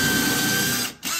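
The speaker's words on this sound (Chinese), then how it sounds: "我先把这个孔给打通。" A power drill bores out a hole in a cabinet panel, a loud steady whine that briefly cuts out and then resumes, close up with no talking.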